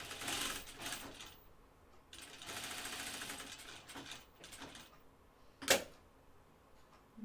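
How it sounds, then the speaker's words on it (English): A sewing machine top-stitches around an opening in an anorak, running in bursts of rapid mechanical stitching separated by short pauses, with one sharp click near the end. "let's just top stitch around this opening"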